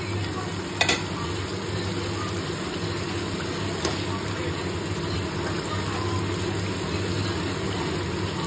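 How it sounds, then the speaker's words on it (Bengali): Chicken pieces go into a hot pan and fry with a steady, loud sizzle throughout, with a couple of brief clatters of the spatula near the start, in a home kitchen cooking meat. "চলো এখন চিকেনগুলো দিয়ে দিই।"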